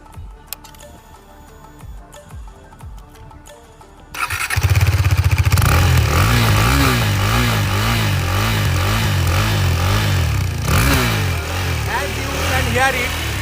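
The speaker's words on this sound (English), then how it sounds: "it has a beautiful side hung exhaust system which is quite small and attractive. Let's hear the exhaust sound." A KTM Duke 390 BS6 motorcycle with a small side-hung exhaust starts up after a few seconds of quiet ticking, then idles smoothly and is blipped several times, loud and close, while a person talks over it.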